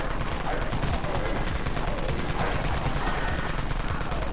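Rapid continuous automatic gunfire from the Dawn Mag weapon in the game Dead Frontier, a dense unbroken rattle of shots at steady loudness throughout.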